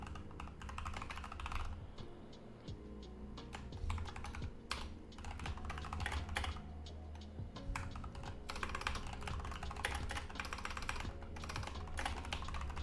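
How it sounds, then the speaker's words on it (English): Rapid, continuous typing on a computer keyboard while working on compiler programming, a dense stream of close clicks and clacks with only brief pauses throughout. "I'm struggling to type right now"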